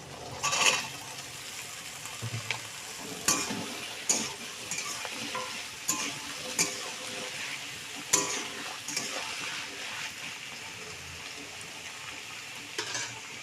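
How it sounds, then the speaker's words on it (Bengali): Chopped taro stolons fry in a pan without salt or turmeric yet: a soft sizzle runs beneath repeated scraping stirs of a spatula, with sharp clanks against the pan every second or two. "একটু ভাজা ভাজা হতে থাক"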